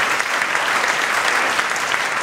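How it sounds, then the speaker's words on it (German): A live comedy show audience applauds a volunteer called up on stage, loud and dense clapping that runs continuously at close range. "Ein Applaus für Uli, bitte."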